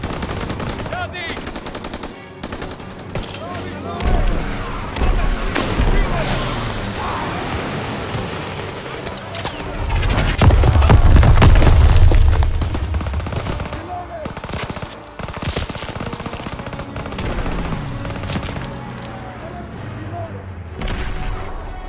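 Sustained World War II battlefield gunfire in the Call of Duty: WWII video game, with machine-gun bursts and rifle shots layered over heavy low booms that swell midway, continuous and loud, with shouted voices mixed in.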